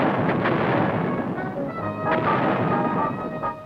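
Artillery cannon fire at Fort Sill's Field Artillery Center booms heavily and continuously, a dense rumbling roar with a few sharper blasts layered through it, loud and reverberant throughout.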